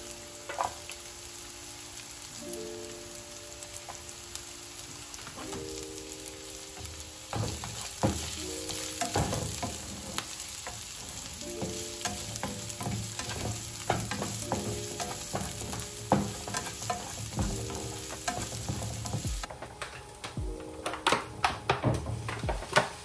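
Onions frying in a pan for lumpia and Filipino barbecue, a constant close sizzle with recurring clicks and scrapes of stirring and faint tonal beeps in the background.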